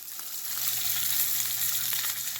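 Fish fries in a pan with a steady, dense hiss and crackle, close and fairly loud, continuous throughout with no voices.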